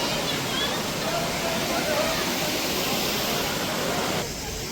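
A waterfall at a temple in Katra gives a loud, steady, broadband rushing roar that fills the whole stretch without a break, close by, with no voices heard over it.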